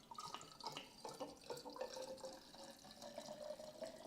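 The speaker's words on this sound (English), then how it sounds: "This just seems like a lot when you're pouring it." Whisky gurgles and trickles steadily into a vessel during blending at a London distillery school, a continuous close pour with a rising pitch as it fills.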